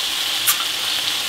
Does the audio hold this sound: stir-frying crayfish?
yes